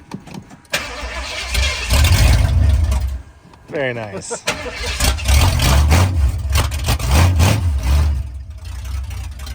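Ford truck with a 302 V8 swapped in for its 351M, starting and running close by, low engine rumble with a few revs, and people talking over it.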